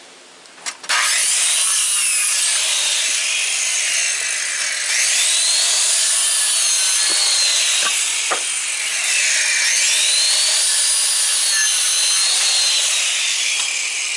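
A Wood-Mizer sawmill blade cuts through wood to make 12-inch pegs, giving a loud, continuous rasping whine that runs steadily for most of the clip and rises and falls in slow waves.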